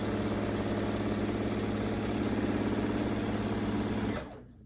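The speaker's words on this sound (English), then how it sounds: "I'm going to do the same thing down this side, stitching all the way from the edge." A sewing machine runs steadily, stitching a quarter-inch seam along the edge of an alphabet panel quilt top, a continuous even whir that stops abruptly near the end.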